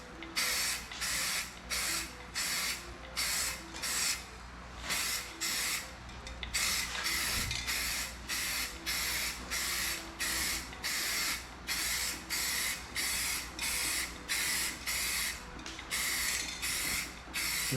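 Short, repeated bursts of hissing aerosol spray paint coat a motorcycle fuel tank up close, each pass lasting about a second with brief pauses between, in a steady rhythm.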